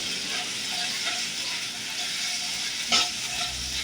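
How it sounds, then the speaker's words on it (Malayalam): Onion, tomato and slit green chili sautéing in an earthen pot while being stirred, a continuous close sizzle with soft scraping and one louder clatter near the end. "ഇട്ട് നമുക്ക് നന്നായിട്ടൊന്ന് ഇളക്കി കൊടുക്കുക ഒന്ന് വഴറ്റിയെടുക്കാം"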